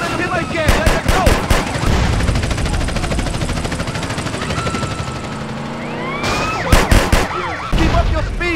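Rapid bursts of gunfire ring out during a drive-by in GTA San Andreas with a modded BMW M5 F10, clustered volleys near the start and end over a steady engine and siren wash, with voices talking throughout.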